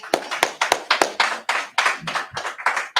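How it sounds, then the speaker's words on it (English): A small group at a Feast of Purim gathering clapping for Esther, a sparse, irregular run of distinct, sharp hand claps close by, each ringing out separately with no talk over it. "Let's clap it up for Esther, man."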